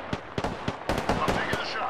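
Bursts of gunfire in the Apex Legends battle royale shooter, a run of sharp repeated shots at irregular intervals, fairly close and loud, with a voice talking over parts of it.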